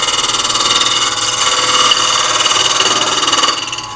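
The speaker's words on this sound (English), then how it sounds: "Cutting on the edge of one of these segmented rings," A wood lathe turns a segmented ring while a shallow-bladed gouge cuts its edge, a loud, steady motor hum with a rapid rhythmic pulsing that drops away near the end, close and with no voice.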